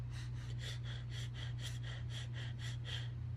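Rapid, shallow breaths demonstrated in imitation of hyperventilating, about a dozen quick airy puffs in steady rhythm, close and fairly loud over a constant low hum.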